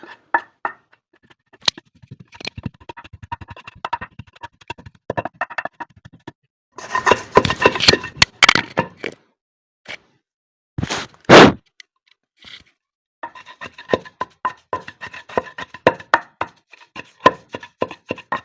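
Garlic pounded with salt and chili powder in a mortar for a spicy garlic chutney: irregular sharp thuds and crunches, clustered in bursts with gaps, close up and alone.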